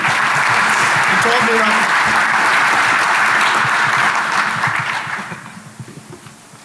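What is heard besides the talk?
audience applause for Dan at DEF CON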